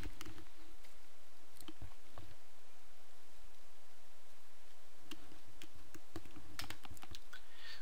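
Someone types a password on a computer keyboard in light, irregular clicks and taps, clustered in bursts with pauses between them, against a faint background hum.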